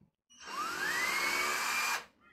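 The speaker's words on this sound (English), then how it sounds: "We're going to drill our hole." A cordless power drill spins up and bores a hole in wood, with a steady rising whine that holds for about a second and a half before cutting off sharply.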